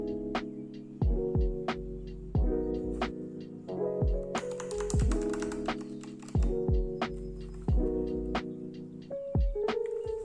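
Keys clack on a Machenike mechanical keyboard fitted with Oceano keycaps in irregular bursts of close, fairly quiet typing. A few louder, thockier strokes stand out, as if from bigger keys.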